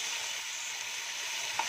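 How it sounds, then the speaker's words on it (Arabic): Meat frying in hot golden ghee, a steady faint hiss of sizzling fat with a small pop near the end, no voices. "دلوقتي هنسقط اللحمه."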